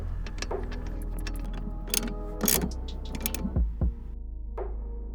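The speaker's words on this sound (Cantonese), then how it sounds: "推前張凳，再上埋後面2粒螺絲。" Bolts being tightened while a Recaro RS-G bucket seat is installed in a Toyota 86: a series of sharp metallic clicks, ratcheting and creaks close by, with a couple of low squeaky scrapes near the end and no talking.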